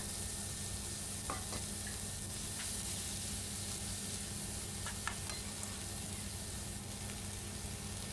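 Cabbage is stir-fried with pork belly in a pan: a constant, close frying sizzle and hiss runs throughout, with a few brief clicks and scrapes from stirring.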